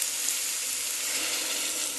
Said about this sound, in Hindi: अब हम इसमें गरम पानी ऐड करेंगे।